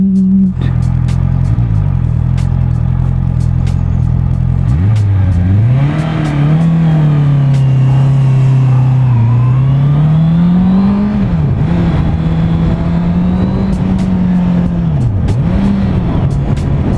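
A 2018 Honda CBR650F motorcycle engine drones steadily up close, then its pitch rises and falls repeatedly as it revs and shifts while riding, with constant wind rumble.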